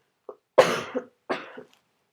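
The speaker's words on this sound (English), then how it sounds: "Why are you coughing so" Several harsh coughs in quick succession: a short one, then two louder bursts, close to the listener, with no speech.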